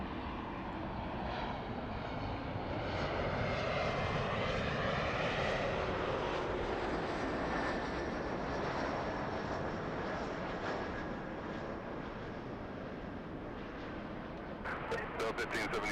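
A Delta airliner takes off at LAX airport, its jet engines making a loud, steady, broadband roar that holds for about sixteen seconds, with faint ticking near the end.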